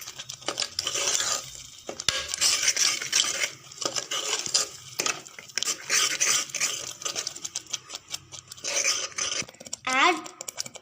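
Spoon stirring green peas masala in a pan, with clinking scrapes against the metal and soft sizzling repeated in bursts across the stretch, fairly close.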